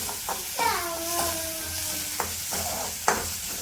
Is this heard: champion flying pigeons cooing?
no